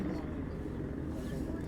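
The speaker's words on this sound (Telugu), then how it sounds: "ఇప్పుడైతే ఒక హెలికాప్టర్ ల్యాండ్ అవుతుంది అనుకుంటా" A helicopter landing at Badrinath gives off a faint, distant, steady low rumble that lasts throughout the short stretch.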